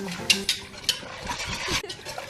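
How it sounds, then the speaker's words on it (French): A whisk stirs baobab pulp vigorously in a bowl to free it from the seeds, giving uneven scraping and swishing strokes with a few sharper clicks against the container, fairly close and with no voices. "avec mon fouet à bien mélanger pour que la pulpe se détache bien des grains"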